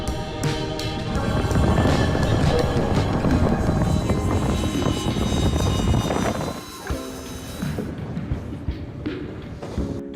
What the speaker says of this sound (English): this is the first time a Pilatus PC-24 has landed on this airfield